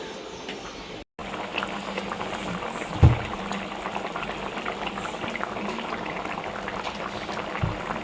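Covered pot of fish curry with potatoes and prawns boils on the stove, giving a constant, dense bubbling and churning with a couple of louder plops, close and unbroken apart from one brief dropout.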